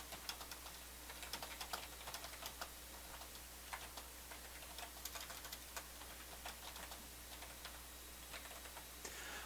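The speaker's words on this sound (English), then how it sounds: "I'm going to type that in, actually." Steady typing on a computer keyboard, rapid irregular clicks and taps running continuously at moderate closeness over faint background hum, with no speech.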